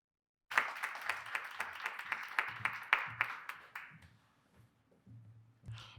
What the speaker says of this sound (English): please join me in giving a round of applause to Tracy Steffes